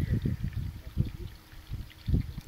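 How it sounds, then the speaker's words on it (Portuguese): Water trickling and flowing from a restored spring on a rural smallholding, a soft low gurgling pour in uneven bursts, close by and fairly quiet. "Já tá fluindo água aqui, ó."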